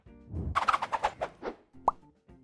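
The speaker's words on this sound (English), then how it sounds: "Step number one is to break the egg like that." A single egg cracked for homemade mayonnaise, a quick soft crack and wet plop into a bowl, followed by a sharp tap, close and clear in an otherwise quiet room.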